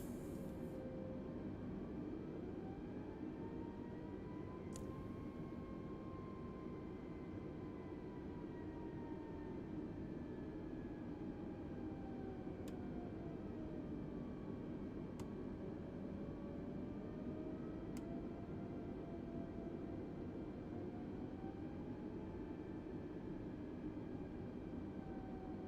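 An Airbus A320neo taxis at Los Angeles International Airport in Microsoft Flight Simulator. A steady, quiet engine hum and whine runs throughout with slowly shifting tones, a few faint clicks and no talking.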